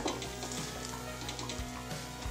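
Spanish omelette cooking in a pan on its second side, a soft, even sizzle with faint crackling and occasional light scrapes, close by and with no voices.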